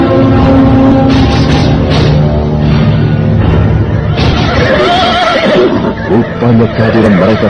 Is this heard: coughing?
no